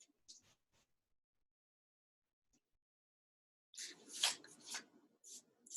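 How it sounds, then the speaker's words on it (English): Tarot cards are shuffled by hand in a few quick, papery riffling bursts near the end, preceded by faint scattered rustles and near silence. "I am going to shuffle the cards so that we can do our tarot reading."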